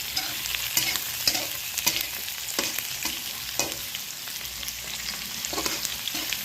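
Ginger added to pork and meat frying in a pan, a soft continuous sizzle broken by repeated stirring scrapes and knocks of a spoon, close by and fairly quiet, with no talking.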